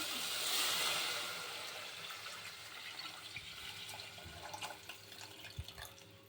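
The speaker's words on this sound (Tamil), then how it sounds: "புளி தண்ணி கரைச்சி வச்சுருக்கு, அதையும் ஊற்றியாச்சுங்க." Tamarind water pours and splashes into a pan of sautéed tomatoes, gurgling at first then settling into trickles and small drips, close by, no voices.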